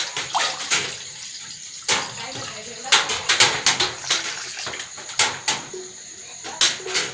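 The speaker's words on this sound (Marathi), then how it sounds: "आपले मासे स्वच्छ करून झालेले आहेत, आता धुवायचे आहेत" Cleaned malu fish being washed by hand in water, with repeated splashing and sloshing bursts at an irregular rhythm, close by and moderately loud.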